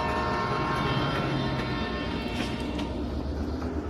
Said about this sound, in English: Hey, listen to that. It is from the railway carriage.